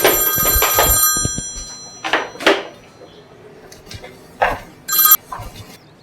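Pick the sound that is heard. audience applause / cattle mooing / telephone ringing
telephone ringing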